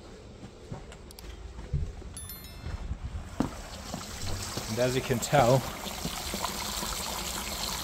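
Water draining from a heating system through a drain-off during a Baxi 800 system boiler install, a steady trickling, pouring wash under someone talking, with a few clanks and footsteps nearby.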